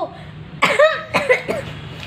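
Three harsh, close coughs come in quick succession, each a rough voiced burst with a brief gap between, against a quiet background.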